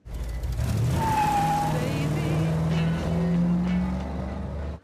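A car engine drives and revs steadily for several seconds as part of a film soundtrack, with tonal whine and a rising, changing pitch, while voices speak over it.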